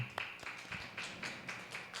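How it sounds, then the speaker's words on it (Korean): A church congregation claps rhythmically in an even beat at a Wednesday prayer service, fairly quiet and steady, like many hands keeping time together. "주께 영광의 박수 올리겠습니다"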